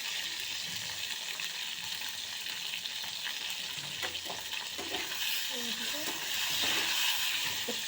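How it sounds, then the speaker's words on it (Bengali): Green tomatoes fry in hot oil with salt and turmeric, a steady close sizzle with occasional stirring scrapes running throughout. "তেলটা গরম হলে কাঁচা টমেটোগুলো একটু ভেজে নিতে হবে একটু সামান্য নুন আর হলুদ একটু"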